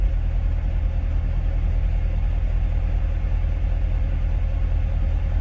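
A Corvette runs in sport mode with its exhaust valves open, giving a steady, deep low rumble at idle that holds evenly throughout with no voices.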